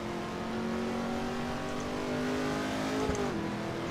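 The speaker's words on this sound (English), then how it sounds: "You can hear me clearly over the engine noise." A race car engine in Assetto Corsa EVO holds a steady, tonal drone, pitch gliding slightly as it revs and shifts, moderately loud and continuous without voices.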